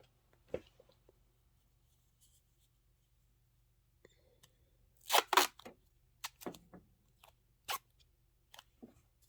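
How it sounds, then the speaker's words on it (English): A short strip of tape torn off the roll during a sewing project: a quiet room with faint handling clicks, then one brisk ripping burst midway, followed by a few light crinkles and taps as the piece is placed. "I'm going to put a little piece of tape."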